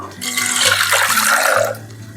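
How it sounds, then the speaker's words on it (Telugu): Water poured into a pressure cooker holding washed toor dal, a steady close splashing rush for about two seconds with a low tonal hum beneath. "నీళ్ళు పోసుకుందాం."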